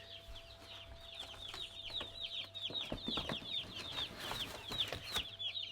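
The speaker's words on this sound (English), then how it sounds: "my glamorous assistant Bella, we're going to release these chicks" Ross and Cobb meat chicks released onto a sawdust floor keep up a continuous chorus of high cheeping at moderate volume, mixed with rustling and light handling knocks, with no voices.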